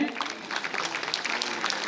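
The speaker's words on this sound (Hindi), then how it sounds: "थोड़ी तालियां बजा सकते हैं।" An audience claps at an awards ceremony for the national Atal Samman at Bharat Mandapam, with steady, moderately distant applause of many hands sustained throughout.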